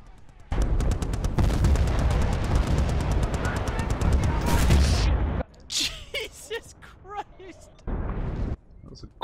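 Dense gunfire and explosions from mortars, mines and Gustav rockets in a Bad Company 2 match, a loud sustained barrage that cuts off abruptly, followed by voices talking over quieter bursts.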